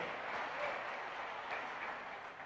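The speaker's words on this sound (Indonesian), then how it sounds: "Tepuk tangan untuk beliau" A large party congress audience applauds Amien Rais at a national working meeting, a distant, faint, steady roar of many hands clapping in a big hall.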